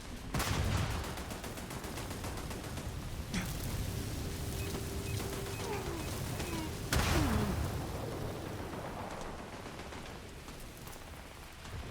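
Rapid automatic gunfire from gang turrets in the Starfield video game crackles in dense bursts, with louder shots near the start and around the seventh second over a steady rumble.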